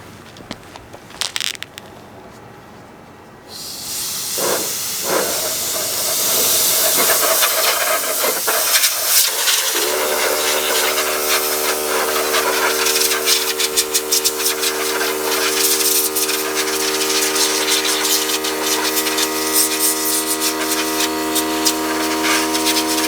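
A 2-gallon Anvil pancake air compressor drives a loud, continuous hiss of air blasting dust out of an ASIC miner, following a few brief knocks and handling sounds, with a steady motor hum joining partway through.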